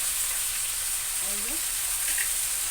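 Turmeric, salt and ginger-chili paste fry in a pan for a light rohu fish and potato curry, giving a steady close sizzle while being stirred, with a brief murmur of voice.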